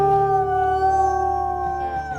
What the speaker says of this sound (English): I'll give you a howl right back at you.